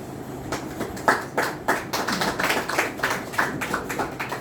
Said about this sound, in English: Are you just coming to come and be clapping with us?